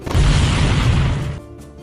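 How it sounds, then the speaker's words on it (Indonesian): A loud, dense explosion effect from an animated fantasy story booms and rumbles for over a second before cutting off into a faint tail. "ledakan malah terjadi tepat di tempat ia berada."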